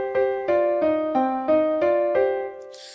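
Synthesized vocaloid motif layered with its mirrored counterpart, two voices sounding together in a steady run of about seven even, bright tones, ending with a brief airy burst.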